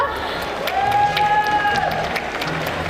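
An audience at a video game competition applauds a contestant's father, continuous clapping and crowd noise with a rising whistle or whoop through the middle, and voices mixed in.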